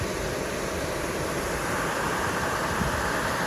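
Lower section of Dutchman Falls pouring into Loyalsock Creek on a forest trail, a steady close roar of rushing water that fills the whole stretch with no gaps and no voices.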